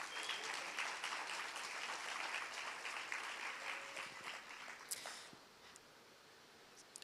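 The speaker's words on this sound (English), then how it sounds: "Can we have a round of applause for Andrew Bourns" A panel audience at the Wellington Breeders' Panel gives a round of applause to welcome a guest to the stage, a soft, steady wash of many hands that thins out and stops after about five seconds, leaving a few scattered claps.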